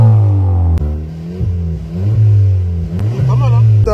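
A Volkswagen Polo TSI engine drones and revs on a road test, its pitch rising and falling steadily up close, with a few brief shifts and someone talking over it.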